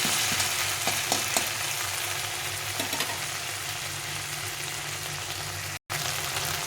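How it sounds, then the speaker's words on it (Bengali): Ginger, cumin, coriander, chilli and tomato fry in a pan for a banana-flower mocha ghonto. The sizzle is steady and close and continues throughout, broken by a few soft stirring knocks. "মশলাটা আমি এইভাবে ভেজে নেব প্রথমে আমি আদা জিরা দিয়ে আদা দিয়ে ধনে লঙ্কাটা একটু ভেজে ভিজিয়ে নিলাম"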